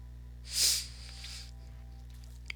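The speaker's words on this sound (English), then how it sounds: "Sorry if I keep sniffling." One short, breathy sniffle through the nose, fairly quiet and close, over a steady low electrical hum.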